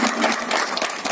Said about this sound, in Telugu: క్లాప్ కొడదాము.